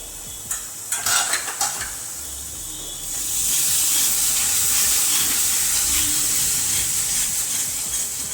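A tadka base for a kofta curry, splashed with a little water and cooking in a covered pan: a few brief clinks at first, then a loud, steady hissing sizzle that runs unbroken to the end.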